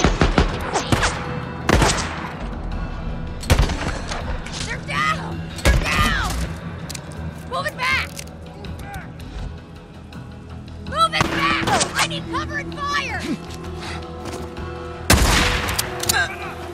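Gunfire in the video game Days Gone: repeated loud shots and bursts ring out in an outdoor fight, spaced irregularly with echoing tails, while characters shout over the battle.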